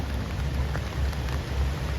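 Rain falls around a southern line train running on an elevated track across the Chao Phraya River: a steady, dense hiss of rain over a continuous low rumble, with no voices.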